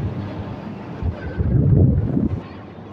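Ventilation fans run in a controlled poultry shed, giving a steady, airy low rumble that swells slightly midway with no talking.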